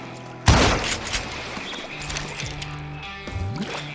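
Gunshots in the Western shooter Call of Juarez: Gunslinger: one sharp loud blast followed by a few more scattered shots and echoing cracks over a short span.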